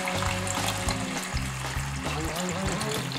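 A glass of water poured into a hot pan of chicken gizzards in tomato sauce, hissing and sizzling steadily with soft splashes beneath a background of music.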